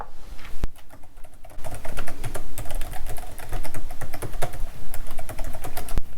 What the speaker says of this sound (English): And the sound of the keyboard's really important.